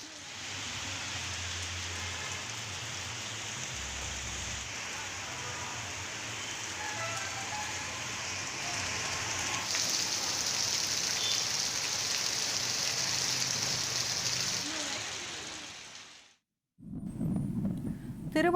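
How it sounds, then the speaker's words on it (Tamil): Drizzling rain falling suddenly in Puducherry and Karaikal makes a steady broad hiss that swells slightly midway, then cuts off abruptly before a brief different sound. "புதுச்சேரி மற்றும் காரைக்காலில் திடீரென சாரல் மழை பெய்தது."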